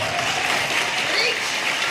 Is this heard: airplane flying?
no